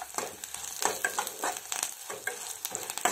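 Spices crackling and sizzling in hot oil in a pan for Karnataka-style kaarada kootu, a steady bright fry with scattered pops and a few stirring scrapes throughout, close and fairly loud with no talking.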